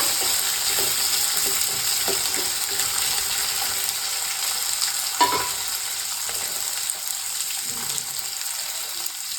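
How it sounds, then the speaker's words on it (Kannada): Hill gooseberries roast in a pan over a medium flame, giving a steady sizzle with occasional stirring scrapes and clicks throughout. "ಇವಾಗ ಸ್ವಲ್ಪ ಮೀಡಿಯಂ ಫ್ಲೇಮ್ ಮಾಡಿಕೊಂಡು ರೋಸ್ಟ್ ಮಾಡಬೇಕು ಬೆಟ್ಟದ ನೆಲ್ಲಿಕಾಯಿನ"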